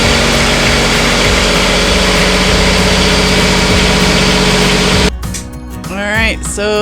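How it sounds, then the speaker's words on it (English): A sailboat's generator runs at steady idle, a loud continuous drone, then cuts off abruptly near the end as a voice begins speaking over quieter background. "the generator test worked"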